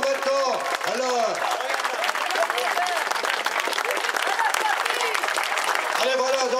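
Loud, dense crowd applause fills a cycling championship ceremony, the 2013 Brittany junior championship in Saint-Gouéno, with a voice talking over the clapping throughout.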